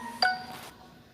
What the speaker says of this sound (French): Ok, désolé pour la notification.